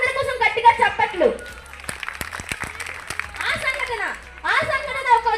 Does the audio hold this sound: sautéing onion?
no